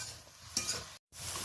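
Ground spices and ginger paste are stirred in a sizzling pan for a spicy fish curry with eggplant: a soft scraping stir over a quiet frying hiss, brief and close, cut by a short gap of silence.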